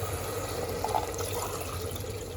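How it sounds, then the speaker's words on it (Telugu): Water is poured into a cooking pot of fried masala and mutton for masala rice, a soft continuous splashing flow at close range, with no talk. "వాటర్ యాడ్ చేసుకున్నాం."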